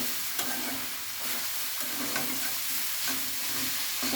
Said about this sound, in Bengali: এখন সুন্দর করে নাড়াচাড়া করে নেব।